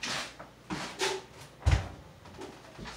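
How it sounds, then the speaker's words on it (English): An indoor door is pushed shut, with a few light rustles and clicks leading up to one dull, solid thump near the middle, then faint handling noises. "Let me close this door."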